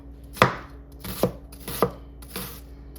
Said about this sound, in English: I'm gonna get ready and cut my vegetables up